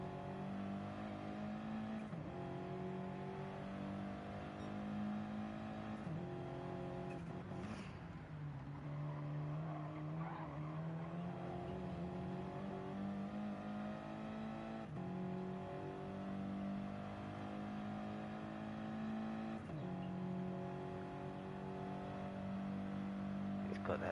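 Audi TT Cup race cars run a 40-minute race on a circuit, with engines droning steadily and revving through gear changes. The sound is continuous and fairly distant, and commentary runs over it.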